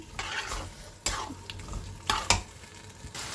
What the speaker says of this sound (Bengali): সয়াবিনটা ভালো করে একটু কষিয়ে নেব